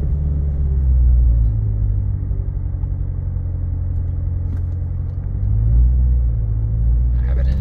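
A 2016 Chevrolet Corvette Z06 3LZ engine rumbles steadily from inside the car during a drive, a deep, continuous low drone that swells slightly at the start and near the end.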